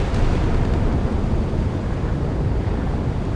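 Harpoon missiles strike a German F124 Sachsen frigate at sea in the naval combat game Sea Power, producing a loud, dense, rumbling roar of impact and fire that holds steady with no clear pauses.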